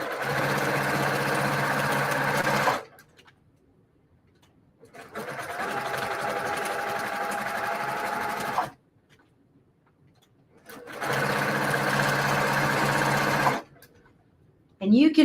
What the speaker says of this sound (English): Just run another line of stitching.